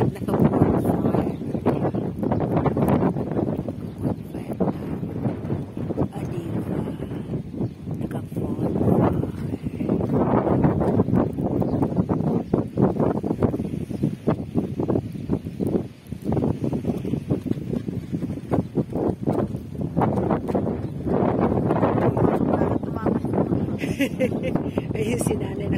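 Strong wind buffets the microphone at a seaside campsite, a steady loud rumbling roar that runs throughout with little letup.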